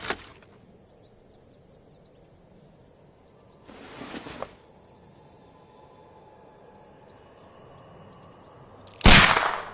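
Pistol fired at a package: three sharp, isolated reports spaced several seconds apart against a quiet background, the last the loudest and closest.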